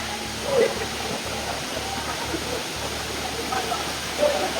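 Tharamana Water Falls pours in a steady broadband rush, water spilling continuously at close range with faint splashes and a low background hum, voices murmuring faintly beneath.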